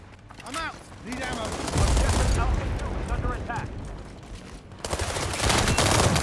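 Dense rapid gunfire in the World War 3 shooter game, sustained bursts and booms filling the clip, loud and close, with excited voices talking over the shooting.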